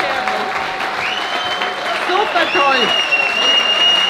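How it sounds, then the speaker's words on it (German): Crowd applause at the Wertach Viehscheid cattle festival in 2023, a steady wash of clapping running throughout while someone speaks over it close to the microphone. "Ein toller Applaus für die beiden"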